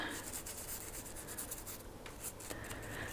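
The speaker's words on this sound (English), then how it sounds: "I'm just making sure to work the oil into all the little nooks and crannies to make sure that rust doesn't get any chances." Cloth rubbing oil into the parts of a Weatherby Vanguard rifle during cleaning, soft close-up scrubbing and wiping strokes in an uneven rhythm, quiet and unaccompanied by talk.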